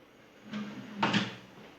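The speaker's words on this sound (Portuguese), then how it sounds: "A gaveta." A shoe cabinet drawer slides shut during furniture assembly, giving two close knocking impacts about half a second apart, the second louder, in an otherwise quiet room.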